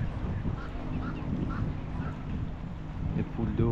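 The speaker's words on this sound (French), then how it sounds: "Les poules d'eau, les canards." Moorhens and ducks call and honk intermittently over a steady outdoor wash of water and background noise at a lake in Sidi Bel Abbès, Algeria, with a faint voice in the mix.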